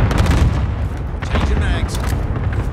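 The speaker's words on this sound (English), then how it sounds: "Allied cluster strike inbound." Cluster strike explosions in a Modern Warfare video game, dense overlapping booms and rumbling blasts filling the clip at close range, loud and continuous.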